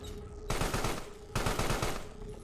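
Rapid bursts of rifle fire in the video game Carrion, two dense volleys of shots separated by a short gap, loud and close with no talking.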